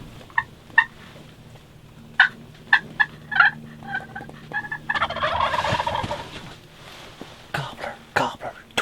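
Several loud gobbles from two wild turkey gobblers ring out in bursts, with softer clucks and rustling between them, fairly close in an outdoor setting in New York.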